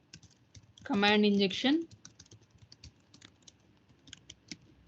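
Light, rapid typing on a computer keyboard, a steady patter of soft clicks, briefly under a short spoken phrase and then alone.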